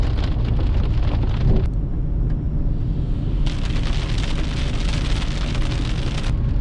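Steady rain falls in a Madinah valley, Wadi Jinn near Mount Uhud, during the rainy season, a dense even hiss that runs unbroken and close throughout, briefly quieter in the middle before returning at full strength.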